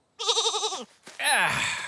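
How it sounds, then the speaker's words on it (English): Cartoon sheep bleating twice up close: a loud, wavering baa followed by a second rougher, falling bleat. "Come here, you sheep."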